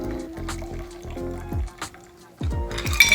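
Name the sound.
cocktail strained into a Collins glass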